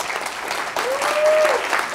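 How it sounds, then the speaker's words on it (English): Audience applause at the closing remarks of a programming conference, a brief burst of dense clapping close and steady, with a faint tonal whistle sliding through partway. "Give yourself a round of applause."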